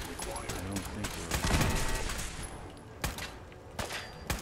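Gunfire heard through a wall in the video game Fallout 4, a short fusillade of sharp rapid shots and impacts mixed with game ambience, with a voice speaking over it.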